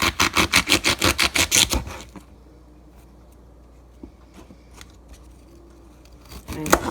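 Scissors snipping the top off a baby artichoke: about a dozen quick, crisp cuts in a steady rhythm, then quiet handling sounds and a final snip, close up.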